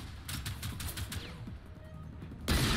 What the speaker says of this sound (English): Sit still so I can shoot you